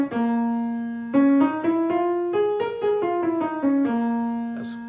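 A blues scale played on trumpet, a clear solo line of about a dozen notes that steps up and then back down with bends and slides, close and alone.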